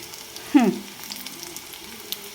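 Bitter gourd frying in hot oil in a pan, a quiet steady sizzle with one louder hiss early on and light crackling after.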